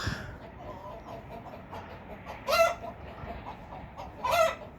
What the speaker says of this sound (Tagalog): May mga manok din ako dito.